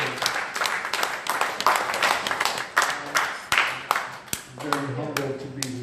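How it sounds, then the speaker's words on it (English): An audience applauds during an epilogue talk by a film producer, sharp scattered claps building into a moderate round at middle distance, with a voice speaking over the clapping. "Let us applaud it."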